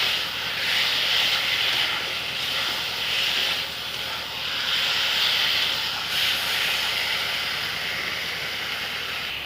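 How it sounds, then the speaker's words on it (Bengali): Fried potatoes and tomatoes are stirred with spices in a pan for a tomato fish curry, giving a loud, continuous sizzling hiss that swells and dips in slow waves, with no talking. "এখন তাতে দিয়ে দেব ভেজে রাখা আলু টমেটোগুলো। দিয়ে ভালো করে নাড়াচাড়া দিয়ে দিচ্ছি।"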